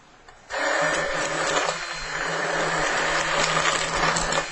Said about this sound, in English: we take our hand blender